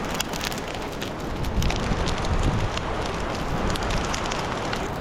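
A large upside-down fire burns outdoors in the rain, giving a steady, loud roaring crackle with gusty wind buffeting the microphone and rain pattering throughout.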